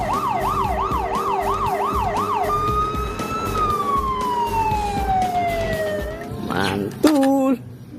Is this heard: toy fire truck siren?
yes